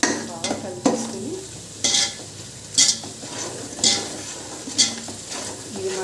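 Spoon stirring coconut biryani masala with onions in a pan, giving repeated scraping strokes at an irregular pace over a steady low sizzle, close and fairly loud.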